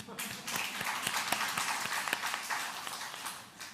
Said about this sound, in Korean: 우리 그 2조에게 우리 격려의 박수 한번 해주십시오.